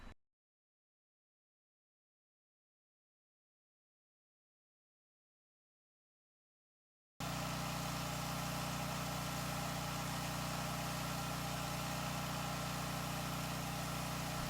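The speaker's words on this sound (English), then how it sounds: "First thing we did was use our wet sandblaster to remove the rust." A wet sandblaster running off a 4400 psi pressure washer strips heavy rust from a steel shipping container. A dead-silent opening gives way halfway through to a loud, unbroken engine drone with constant hiss and low rumble.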